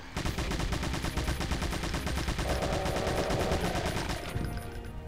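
Sustained rapid gunfire in Doom TNT: Evilution, a dense, continuous stream of shots and blasts, loud and close throughout with no talking.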